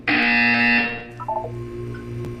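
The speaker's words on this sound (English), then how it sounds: "When you hear the buzzer, look down at the floor." A loud electronic buzzer from the video game Portal 2 blares for about a second as a harsh steady tone, then cuts off, leaving a low hum and a few faint electronic blips.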